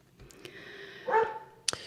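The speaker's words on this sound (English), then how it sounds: "you're going to have to tell me when they've stopped barking" Several dogs bark in the background of a quiet room, giving a few soft, brief yaps and one sharper bark near the end, faint and somewhat distant.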